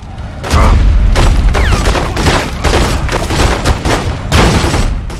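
Gunfire and shotgun blasts in The Godfather 2 video game, a dense run of loud overlapping booms and shots firing close and nearly continuously for several seconds.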